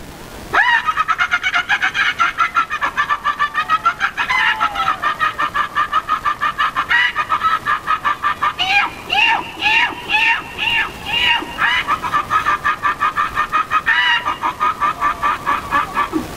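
A hen clucks loudly and repeatedly in rhythmic bursts after laying an egg, rising into excited cackles midway, close and continuous for the whole stretch.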